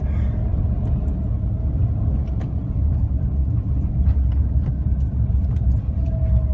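A car accelerates after a downshift to overtake, its engine a steady, close rumble with road noise that holds level throughout, no talking over it.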